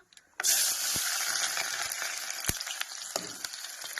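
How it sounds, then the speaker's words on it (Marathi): Chopped onion drops into hot oil and bursts into a loud, sudden hiss that settles into a steady, close crackling sizzle, with a few sharp pops along the way. "तेल गरम झाले बघा हा आणि मी टाकून घेते कांदा"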